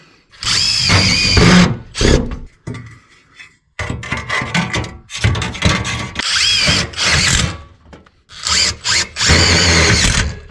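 A power drill drives button screws into trim around an old ceiling skylight, running in several loud whirring bursts of a few seconds each with short pauses between them.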